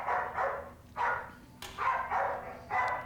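Repeated loud barks from a dog in a film scene, about six sharp barks in an uneven rhythm, close and prominent over a steady low hum.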